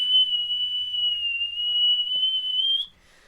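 A voice imitates a shrill, steady whistle, one long high tone held for nearly three seconds before breaking off into quiet.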